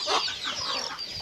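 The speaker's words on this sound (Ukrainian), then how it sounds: "Качка кричить, он, бо тому що знає," A duck calls close by with a short run of loud, raspy quacks, alone with no talking.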